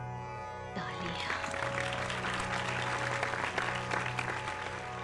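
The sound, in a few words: applause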